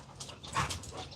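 Dogs playfully scuffling indoors, with soft growls, whimpers and yips in a brief close, moderately quiet burst.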